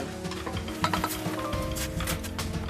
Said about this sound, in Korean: 쉴 새 없이 유부를 볶은 지 얼마쯤 지났을까?